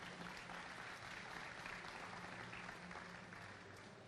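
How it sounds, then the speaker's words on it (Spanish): An audience at an entrepreneurship event in Bucaramanga applauds in a dense, even wash of clapping, faint and distant, continuing steadily for about four seconds with no speech. "quisiera invitarlos a darse un aplauso a todos ustedes por hacer parte de esto"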